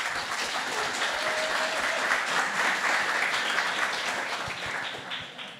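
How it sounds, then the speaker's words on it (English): At a tech conference, the audience gives a warm round of applause to welcome a speaker on stage, steady clapping from many people lasting several seconds and tapering near the end. "So big round of applause,"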